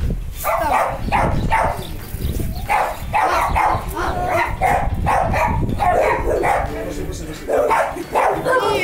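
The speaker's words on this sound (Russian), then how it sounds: "О, это дикие собаки, динго." Dingoes, wild dogs kept at a zoo, bark in repeated bursts at close range over a steady crowd-and-voice background, with people talking throughout.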